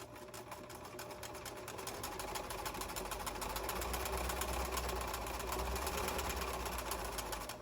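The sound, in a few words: sewing machine stitching a garden pouf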